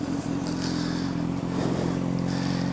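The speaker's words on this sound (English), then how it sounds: "Go ahead and start the bike" A motorcycle engine idles close by in a steady, low, throbbing rumble with slight fluctuations, running continuously and alone.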